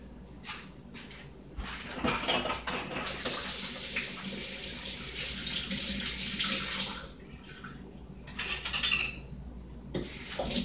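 Water runs from a tap into a sink with splashing and rubbing as hands are washed, steady and close, with a brief clink near the end.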